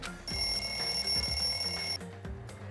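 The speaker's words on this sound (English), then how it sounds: "The lounge's wall clock alarm started ringing at 5:30." A wall clock alarm rings in the lounge in the Danganronpa video game, a loud, steady electronic bell tone held for nearly two seconds over game background music, then cutting off.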